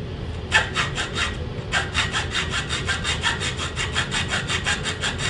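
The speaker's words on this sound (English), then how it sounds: "You're going to saw down on these." A hand saw cuts through wood in quick, even back-and-forth strokes, a rhythmic rasp up close that keeps going steadily.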